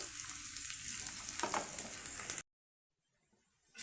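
Cinnamon sticks, cloves and green chillies stirred and frying in a hot pan, a steady close sizzle with scraping stir noises for a couple of seconds before it cuts to near silence.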